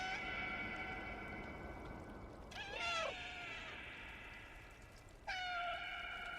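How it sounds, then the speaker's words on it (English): Two meows from another cat in a cat video game, a long drawn-out wavering call followed by a shorter clear meow, heard at moderate distance over a steady background hiss. "There is another cat."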